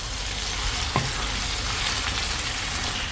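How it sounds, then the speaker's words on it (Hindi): Marinated chicken sautés over a high flame for a Mughlai chicken handi, giving a loud, continuous dense sizzle with a single small clink near the start and no voices. "अब जो मैरिनेट करके चिकन रखा था आधे घंटे तक के लिए, उसको इसमें मिला दूंगी और इसको हाई फ्लेम पे 3 से 4 मिनट तक के लिए भून लूंगी।"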